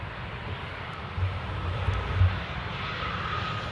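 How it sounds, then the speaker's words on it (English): A Kenya Airways Boeing 787 Dreamliner landing at Amsterdam airport, heard as a steady, broad jet roar with low rumbling swells, moderately loud and continuous with no voices. "behind that we have the beautiful Kenya Dreamliner coming in from Nairobi"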